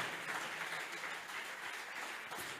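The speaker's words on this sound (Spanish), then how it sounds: "Alguien aplauda fuerte al Rey de Reyes y Señor de Señores" Steady applause from a church congregation honoring the King of Kings, a continuous dense patter of many hands held at moderate level throughout, with no voices rising above it.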